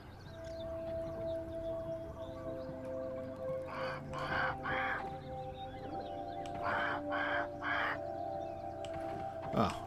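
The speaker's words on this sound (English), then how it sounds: "Oh, that's the crow." A crow in the video game Grounded caws in two bursts of three harsh calls, set against a steady tonal game ambience with low droning layers.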